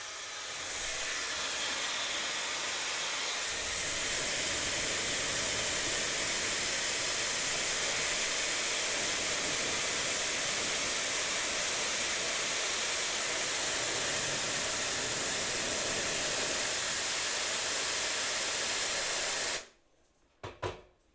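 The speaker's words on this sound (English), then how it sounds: "having a hairdryer next to your workstation" A hair dryer drying paint at a painting workstation blows with a loud, steady whoosh for about twenty seconds, then switches off abruptly, followed by a brief clatter.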